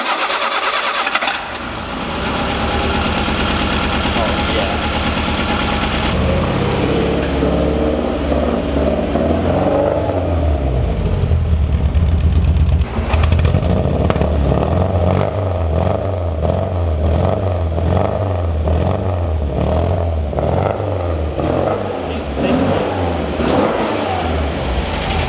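Lotus-built vintage race car engine starting up and revving loudly and close, a rough, raw mechanical roar that settles into a steady, throbbing idle.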